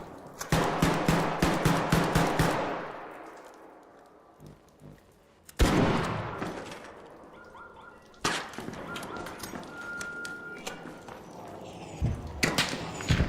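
Sniper shots in the game ARC Raiders, loud sharp cracks followed by rapid clattering bursts and long echoing decays, with a few separate impacts spaced across the stretch.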